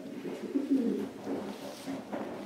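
A medium-sized, well-balanced racing pigeon coos in low, throaty, repeated murmurs, close and steady, with no voices.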